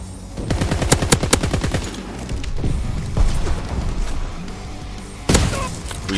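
Bursts of gunfire from soldiers in the World War II shooter game Call of Duty WWII, rapid machine-gun volleys early on, then scattered heavy shots and a loud blast near the end, loud against a busy game background.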